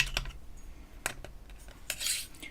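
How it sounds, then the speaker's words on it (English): A blade chops through mica polymer clay on a hard surface, giving sharp, irregular close taps and scrapes spread over a couple of seconds, with no talking. "And I'm going to start chopping and chopping."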